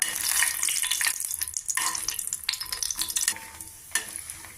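Dried red chillies fry in a spoonful of oil in a pan, a loud, close, crackling sizzle with pops and stirring scrapes that thin out toward the end, with no voices.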